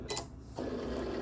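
A Cricut cutting machine cuts out a monogram design, starting with a couple of short mechanical whirs before settling into a steady, close motorized hum.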